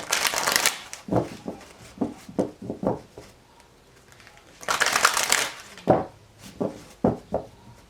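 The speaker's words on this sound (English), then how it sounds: "We're going to do 2 more shuffles here." Crisp riffling and slapping of shuffled cards in quick bursts, close by, with short pauses between rounds.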